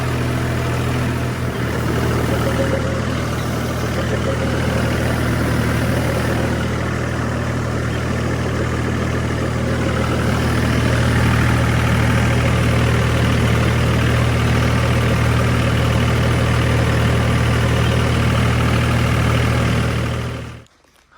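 A Novo 605 tractor engine idles steadily and close by in a farm field, a continuous low diesel rumble running unbroken throughout before cutting off abruptly at the very end.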